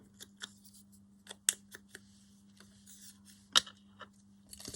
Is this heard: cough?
no